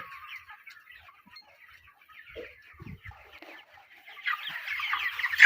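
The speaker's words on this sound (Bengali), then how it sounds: "এই যে মুরগি ধরি" Broiler chickens on a poultry farm of about a thousand birds cluck and chatter together, a soft continuous murmur with a few low bumps midway and a louder, busier burst of clucking toward the end.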